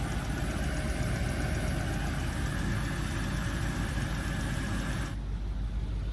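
A Land Rover engine idles in a steady, even drone while the AC compressor is charged with refrigerant; near the end the tone shifts as the compressor engages.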